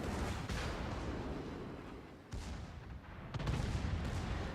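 Naval gunfire in World of Warships: heavy battleship cannon booms and rumbling salvos roll continuously, with a sharp new blast at about the midpoint and another loud volley near the end, moderately loud with no speech.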